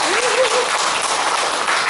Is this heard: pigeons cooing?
no